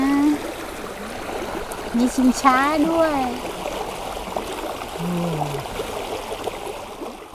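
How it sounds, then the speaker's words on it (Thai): Stream water runs over rocks at a campsite, a steady close trickling rush beneath a woman's chatter and a few brief voiced bursts. "ตรงนี้ น้ำไหลมา"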